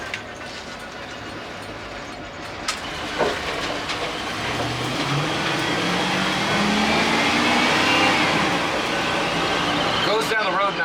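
A 1995 Chevrolet G20 van on a test drive, its engine droning and rising steadily as it accelerates, with road and wind noise building around it and a voice speaking briefly near the end.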